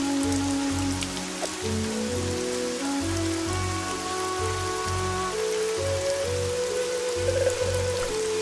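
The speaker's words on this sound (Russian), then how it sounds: "Дождь очень сильно херячит" Heavy rain pours in the Evoland 2 video game as a steady, continuous downpour that fills the scene without pause and plays on its own with no talk over it.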